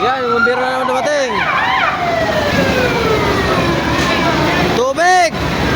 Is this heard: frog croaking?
no